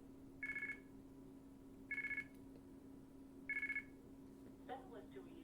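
Payphone tones while coins are fed to trick the phone: three short, evenly spaced bursts of rapid electronic beeps over a quiet steady hum, followed by a brief faint voice.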